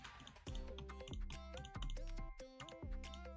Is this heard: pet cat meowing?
no